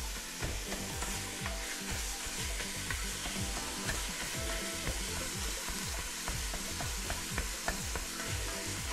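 Ground beef browns in an Instant Pot Dutch oven with a loud, continuous sizzle, while a spatula scrapes and chops at the meat in quick, repeated strokes close by.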